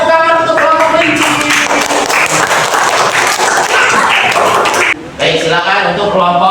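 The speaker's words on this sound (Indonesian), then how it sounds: "Beri tepuk tangan untuk kelompok kelinci." Classroom applause for a student group about to present, broad clapping from many hands filling most of the clip, with a teacher's voice talking over it and a brief pause near the end.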